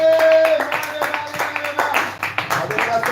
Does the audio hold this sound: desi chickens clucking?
no